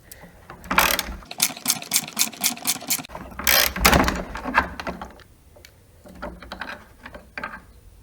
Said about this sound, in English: I'm going to take off these fog light brackets with a T40 Torx.